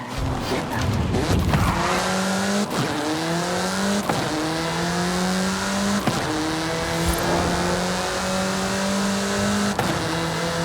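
Engine revs climb repeatedly as a car accelerates through gears in Forza Horizon 5 set in Mexico, with rising whine, gear-shift drops and brief tire squeals, loud and continuous while voices talk over it.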